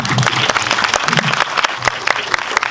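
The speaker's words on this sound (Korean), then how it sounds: "박수 한번." A cinema audience at a guest-visit Q&A for the film Yongsoon applauds, a crisp, busy patter of many hands at close range, steady for the whole stretch with a murmur of voices underneath.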